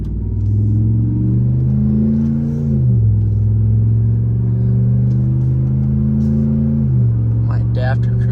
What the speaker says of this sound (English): It does feel good to be back in the truck.